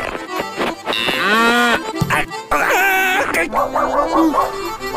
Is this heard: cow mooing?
yes